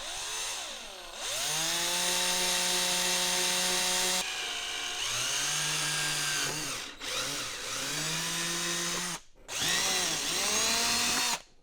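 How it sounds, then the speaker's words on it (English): A power drill with a 3/8 inch bit bores four mounting holes for a new-style fender on an older Honda CR/CRF dirt bike. Four loud, close, steady whining bursts with a rising and falling pitch, separated by short pauses. "we're going to take a 3/8 inch drill bit and just simply drill right through these 4 holes here"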